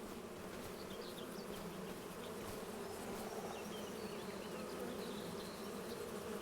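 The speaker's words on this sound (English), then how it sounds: "Oh, I hear the bees." A swarm of bees in Farming Simulator 25 hums with a steady, continuous buzz near a grassy paddock, even in level and alone, with no voices.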